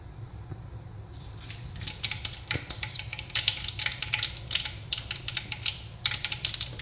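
Mustard seeds splutter in hot oil while a Kerala-style ginger curry is cooked: dense, rapid crackling pops that build and continue steadily at close range.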